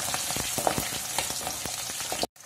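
Green chillies sautéing in a pan with onions, a steady crackling sizzle with quick pops throughout, close and fairly loud, cut off abruptly near the end.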